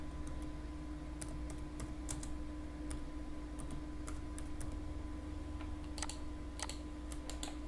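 Computer keyboard typing while entering a text label in AutoCAD: scattered light clicks in short clusters, faint and close, over a steady low electrical hum.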